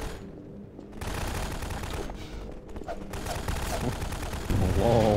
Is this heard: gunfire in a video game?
yes